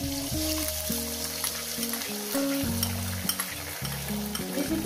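An egg sizzling as it fries in hot oil with vegetables in a home kitchen, a steady crackling hiss running under a tonal melody throughout.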